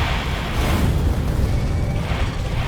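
An atomic bomb detonates in the Factorio video game, producing a loud, continuous rumbling boom that roars steadily for a few seconds with no pause or talk.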